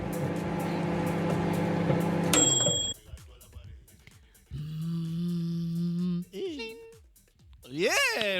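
A microwave oven hum, played as one of several short sounds in a sound-guessing game, appears as a steady buzzing drone between other tonal and electronic noises, with abrupt starts and stops.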